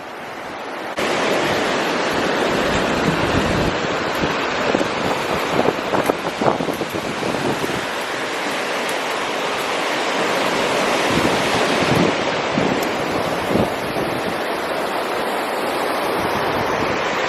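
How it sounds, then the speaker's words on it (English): A glacier-fed mountain river rushing beneath a trail bridge on the Pacific Crest Trail, a loud continuous roar of white water close by, with some wind buffeting the microphone. "I'm glad there's a bridge and we don't have to ford this river."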